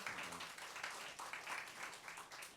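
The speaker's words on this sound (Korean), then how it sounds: "뜨거운 박수 다시 한번" Applause fills the hall at a traditional Korean music concert, a quiet, continuous patter of many hands clapping that swells and dips slightly over a few seconds, with no voices on top.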